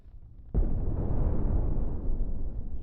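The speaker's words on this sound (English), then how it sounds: "with each deck cannon volley, I'm getting rid of more weapons, more shields" Overclocked deck cannon volley firing in a space combat video game: a sudden loud booming onset that rolls into a sustained, dense rumble of overlapping blasts lasting a couple of seconds.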